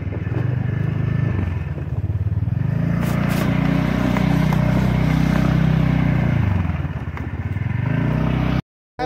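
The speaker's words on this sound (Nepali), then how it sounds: "बाइक छ हेर" A motorcycle passing close on a busy street where people are walking, its engine rising into a loud sustained drone that swells and fades over several seconds, with clattering road noise before a brief cut.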